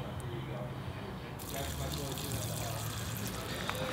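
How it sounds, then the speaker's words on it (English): Water is poured off rinsed bonsai gravel in a container, a continuous close splashing, trickling flow that grows fuller partway through. "I'll pour off the water on top, fill it up with fresh water again, and then repeat the process"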